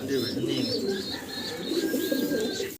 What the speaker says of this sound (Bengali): 3 পিস কবুতর একসাথে আছে